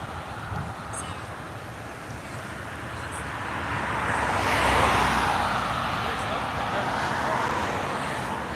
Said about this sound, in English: the cars are loud